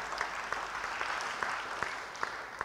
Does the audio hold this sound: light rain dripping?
no